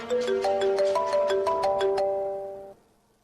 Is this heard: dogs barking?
no